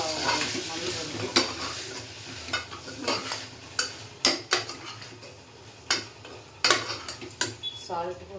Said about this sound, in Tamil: டொமேட்டோ போட்டுட்டு நல்லா வதக்கிக்கணும்.